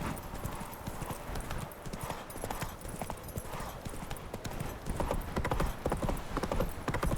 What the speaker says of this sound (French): Que vous entendez qu'un cheval au galop arrive?